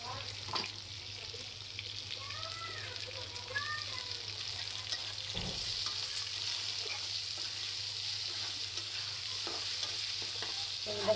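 Onions stir-fried with lentils in a pot for chicken biryani, a steady hissing sizzle with stirring scrapes; a faint voice is briefly audible early on.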